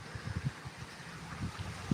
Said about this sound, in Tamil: நம்ம இருக்கக்கூடிய இடத்துல வலுவான காற்று வீசிகிட்டு இருக்கு